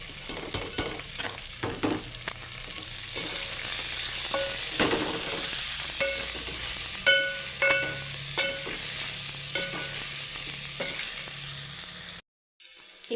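Poha (flattened rice) snack fries in a pan at home, a steady sizzle with repeated scraping and stirring clicks of a spatula, close and continuous until it cuts off near the end.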